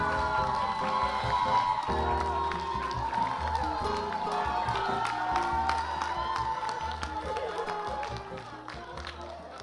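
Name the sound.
audience cheering at a theater event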